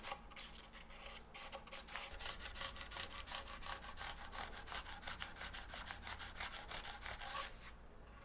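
Steady back-and-forth rasping as a longer abrasive piece is drawn over guitar fret ends, a dense rhythmic scrubbing that runs continuously and close by, with a brief pause near the start and a drop-off at the very end.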